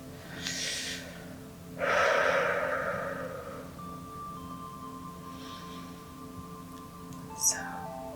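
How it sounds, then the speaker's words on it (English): A slow, deep inhale and long exhale, close and soft in a quiet bedtime Reiki session, with gentle whispery breaths and faint background hum. "Slow, deep breaths"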